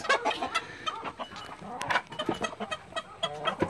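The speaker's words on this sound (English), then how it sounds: "Four little red chickens." Several red hens cluck in a busy farmyard on a homestead, overlapping calls coming in quick irregular bursts at close range with no talk over them.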